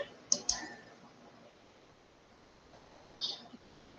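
Mouse clicks while working in Microsoft Word, two quick sharp clicks close together near the start and another lone click later, close and crisp over quiet room tone.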